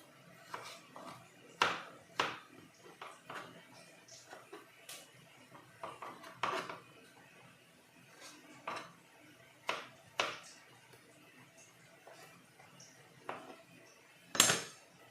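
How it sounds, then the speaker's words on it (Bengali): Potatoes are finely chopped with a knife in a home kitchen, giving irregular sharp taps and clatters against a board with quiet gaps between them, close by and moderately loud, with no talking. "আলুগুলো আমি কুচি কুচি করে কেটে নিলাম"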